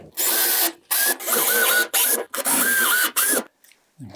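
A power drill fitted with a countersink bit bores screw holes in a shed wall. It sounds as loud whirring bursts, about six short runs in a row, each revving up and cutting off with brief gaps between them.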